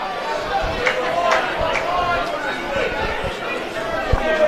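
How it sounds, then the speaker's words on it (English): Crowd at a 2019 Newcastle rugby league minor semi-final between South Newcastle and Cessnock, appealing for a crusher tackle penalty: a steady murmur of many voices with scattered louder shouts and some thuds. "Crowd appealing for a crusher tackle there"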